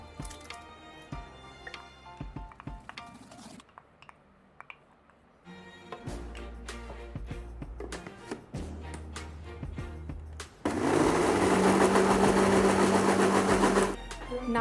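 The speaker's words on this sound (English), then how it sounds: "Now grind this soaked poha to a paste." A mixer grinder whirs loudly as it grinds soaked poha into a paste, starting and stopping in bursts amid clinks and handling noises, with a steady drone of music underneath.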